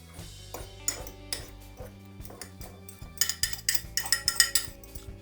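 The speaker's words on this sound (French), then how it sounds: "j'ajoute les mûres que je vais écraser au préalable à la fourchette" A fork crushes blackberries in a bowl, with repeated metallic clinks and scrapes against the dish that start sparse and grow into a quick rhythmic series of taps, close up and without talk.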